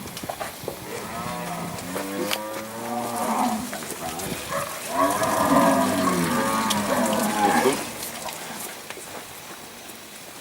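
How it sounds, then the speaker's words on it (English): Weaner cattle bellow in force pens as they are pushed toward a race, several long, overlapping moos near and loud that peak midway, with a brief spoken word before them. "You can see those cattle are pretty accepting of this pressure now."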